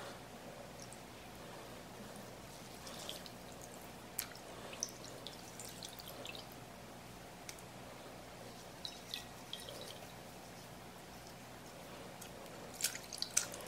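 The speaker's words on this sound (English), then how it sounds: "rinse them in cold water." Coffee-dyed fabric pieces rinsed in cold water, faint scattered drips and small splashes over a quiet background, with a few sharper drops near the end.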